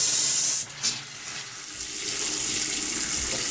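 A sink faucet is turned on and runs steadily with a bright hissing splash, continuing without pause in a home while a hot water tank is being checked.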